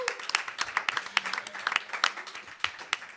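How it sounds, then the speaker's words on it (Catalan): A small audience at a live radio show recording claps in quick, uneven bursts, close and fairly sparse, filling the short stretch without talk. "Un aplaudiment també per tots vosaltres."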